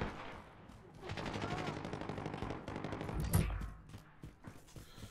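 Rapid bursts of gunfire in a first-person shooter game chatter in sustained automatic volleys, fairly faint overall, with a heavier thump near the middle before trailing off into scattered shots.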